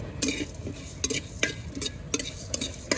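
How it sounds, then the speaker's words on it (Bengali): Whole spices, cardamom and the rest of a spice mix, frying in mustard oil for Bihari chicken, give a steady soft sizzle broken by sharp, repeated scrapes and clinks of a spoon stirring the pan. "এখন বাকি সবগুলো মশলা আমি একসাথে দিয়ে ভেজে নিব"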